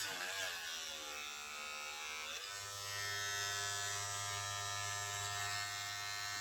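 A Kemei KM 2614 hair clipper runs continuously with a steady, loud electric buzz, its pitch shifting slightly early on before settling into an even motor whine.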